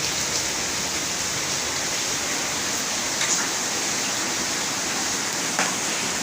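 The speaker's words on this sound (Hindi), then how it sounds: "बारिश देखें अब कब रुकती है" Heavy rain falling in Karachi onto a household roof area, a steady dense hiss of downpour with a few faint drips or splashes over the constant wash, no voices.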